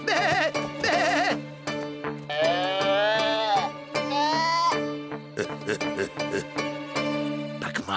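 Sheep bleating loudly and close, several wavering calls in a row with short pauses between them.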